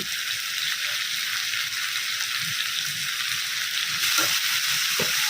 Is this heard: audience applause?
no